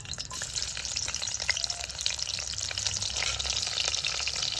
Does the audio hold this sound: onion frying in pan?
yes